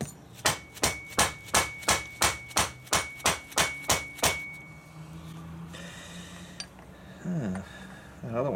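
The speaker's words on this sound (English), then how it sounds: "I'm just using a mallet and just a bolt." A mallet striking a bolt against the locking nut on a motorcycle rear suspension, about a dozen evenly spaced sharp metallic knocks close by, then scraping and shuffling sounds with faint rattling.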